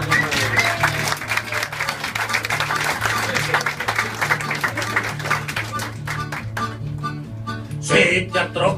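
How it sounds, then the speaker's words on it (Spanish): An audience at a comedy show claps in a dense, continuous round of applause, rhythmic music underneath and voices calling out, tapering toward the end. "Ay, un aplauso."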